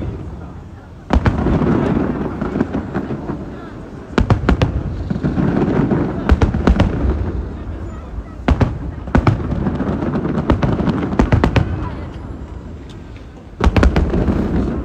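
Lunar New Year fireworks burst in loud, sharp cracks and booms at irregular intervals, some in rapid clusters, over a steady crowd hubbub with people talking nearby.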